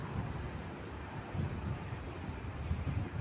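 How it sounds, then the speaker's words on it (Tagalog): Cool wind blows outdoors in Saudi Arabia before rain, a soft steady rush of microphone wind noise with slight gusts, faint and continuous with no voices. "Malimlim, no? Lamig ang simoy ng hangin."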